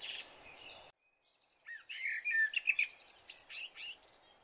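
Cartoon birds chirp at daybreak: after a short silence, a cluster of quick, high tweets and twitters rises at moderate volume and then tapers off.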